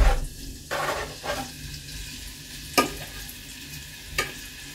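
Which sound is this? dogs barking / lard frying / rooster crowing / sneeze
lard frying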